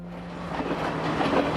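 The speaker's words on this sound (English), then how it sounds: "The trains slowly make their way through the winding tracks" A train on the winding tracks of a Sri Lankan mountain valley near Talawakelle rolls along with a steady rumble and a low hum. It sounds moderately distant, with no voices.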